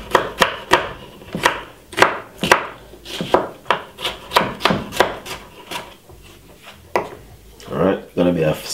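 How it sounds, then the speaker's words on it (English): A knife chops a yellow pepper on a wooden cutting board, a quick run of sharp, close knocks that stays fairly steady, then slows and turns sparser toward the end. "just cut up the yellow pepper"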